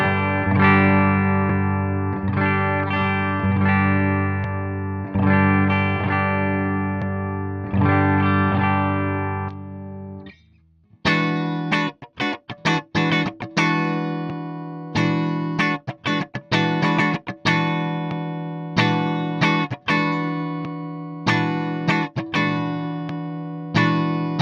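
Guitar played through a Danelectro Spring King spring reverb pedal: sustained ringing chords with a lush reverberant tail, then a sharper, choppier strummed passage with crisp attacks, loud and steady with no talking.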